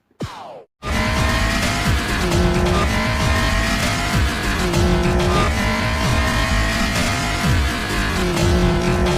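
Loud, continuous rotary race car engine roar from the video game Need For Speed Most Wanted, revving high with shifting pitch and tire squeals, after a brief quiet start.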